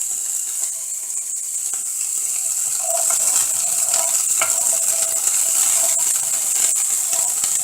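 Peas frying in a hot pan for an omurice, a steady broad sizzle that builds slightly louder partway through, with small pops and spits scattered on top, close and continuous with no talk.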